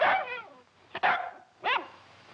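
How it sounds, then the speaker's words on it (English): Dog barking in an old western film scene, three separate yelping barks with short gaps between them, fairly close and clear. "His bark is much worse than his bite."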